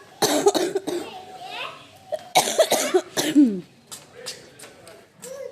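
Several harsh coughs in quick bursts, close by, mixed with a voice and some talking between them.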